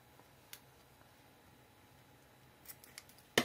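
Scissors trim a small dress tag in a quiet room, with a few faint ticks and snips and then one loud, crisp cut at the very end.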